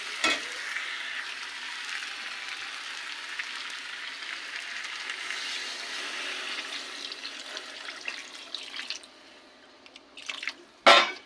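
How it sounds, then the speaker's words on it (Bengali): Water poured into a pan of sizzling Bengali chicken kosha, the oil already separated, giving a steady loud frying hiss and bubbling that runs throughout, easing near the end with a couple of sharp clatters. "চিকেন কষা হয়ে গেছে, তেল ছেড়ে এসছে, এবার দিয়ে দেবো জল।"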